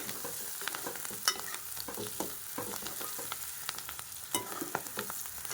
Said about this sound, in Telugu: చూడండి, చూడండి ఎంత బాగా వేగుతున్నాయో